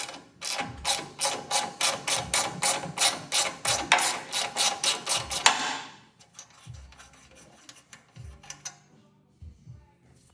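A ratchet threads a nut onto a stud on a lightweight snowmobile, with rapid rhythmic clicking strokes for about five seconds, then quieter scattered clicks and handling noises.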